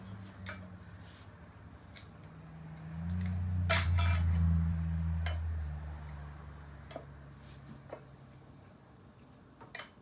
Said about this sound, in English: Going to go ahead and pop our lids on.